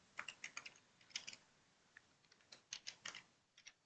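Keystrokes on a computer keyboard as a command is typed, sounding in short irregular bursts of clicks with brief pauses between, close and fairly quiet with no talking.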